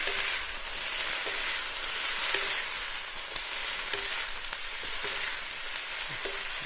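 Bok choy stir fry sizzles steadily in a hot pan with a splash of water, a dense, even hiss with occasional faint ticks and scrapes, close and continuous.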